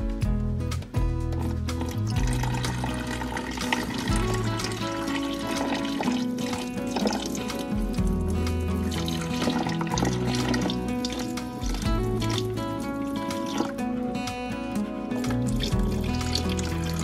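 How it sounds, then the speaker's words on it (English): Water is poured steadily into the center channels of an egg incubator, a continuous gurgling, trickling flow with small splashes that stays close and fairly loud throughout. "I want to fill up these center channels with water."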